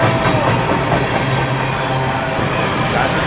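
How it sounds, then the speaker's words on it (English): A train rumbles past close by, a steady broadband roar with a low drone running throughout. "That's a train!"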